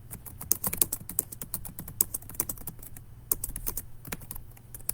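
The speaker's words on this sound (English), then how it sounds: "It's hard to type when someone's watching you, isn't it?" Keys clatter on a computer keyboard in quick, uneven bursts of crisp clicks, close and fairly quiet, with no other sound between the strokes.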